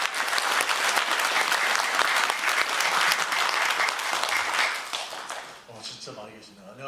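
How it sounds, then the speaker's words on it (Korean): A lecture audience breaks into warm, sustained applause, a thick wash of many hands clapping that holds steady and then fades away near the end. "뜨거운 박수로 맞아주시기 바랍니다"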